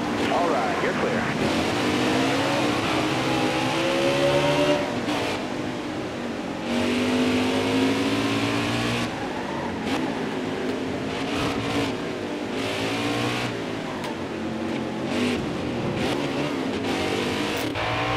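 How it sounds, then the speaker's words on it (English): A race car engine in the NASCAR Heat 4 video game revs and shifts continuously, loud and close with rising and falling pitch, while someone talks over it throughout. "I like the new engine sounds"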